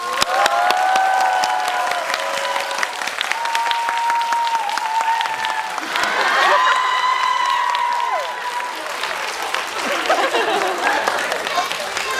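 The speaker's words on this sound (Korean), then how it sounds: "여러분의 뜨거운 함성과 박수로 어, 퇴근시켜 드리도록 하겠습니다" An audience cheers and claps loudly in a cinema hall in Cheonan during a live encore concert. Continuous applause is mixed with shouts, whoops and scattered voices calling out, swelling and easing over several seconds.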